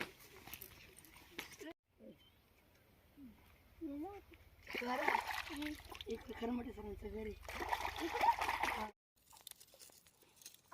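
Splashing through water in bursts, mixed with people talking nearby.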